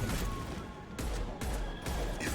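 Gunfire and explosive blasts from a Mass Effect 2 combat sequence, dense and loud with sharp bursts recurring about every half second to second, layered over a rumbling low battle din.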